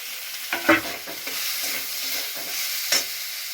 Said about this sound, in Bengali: এখানে কুচনো টমেটো আছে, সেই টমেটোটা আমি দিয়ে দিচ্ছি।